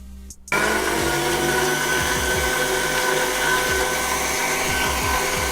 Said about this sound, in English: Now we are going to blend it.